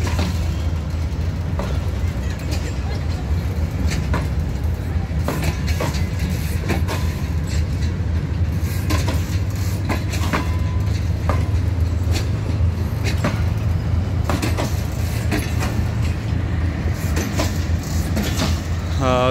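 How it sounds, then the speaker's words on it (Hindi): Subak Raftar Express 101 Up, a packed passenger train, departs Lahore railway station with a loud, steady rumble and repeated rhythmic wheel clacks throughout. "ये थी सुबह खराम 101 अब जो लाहौर रेलवे स्टेशन से डिपार्ट कर रही है"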